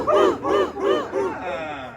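A live audience at a Disney California Adventure show answers a performer's cue with several loud, rhythmic group shouts, about four swelling bursts in quick succession, then fading into a trailing murmur.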